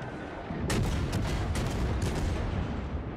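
Naval artillery fire in World of Warships, several sharp distant gun bursts over a constant low rumble of ship and ocean ambience.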